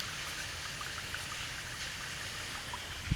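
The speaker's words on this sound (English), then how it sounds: "look at the dirty water coming out" Dirty water runs out of a hose while a cistern is being rinsed, making a steady, gentle trickling and splashing flow at low volume, close by and without speech.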